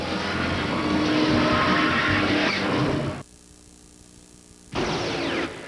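A race truck spinning out during a NASCAR truck race at California in 2002, a loud sustained engine roar and tire noise that cuts out abruptly, then returns after a brief lull.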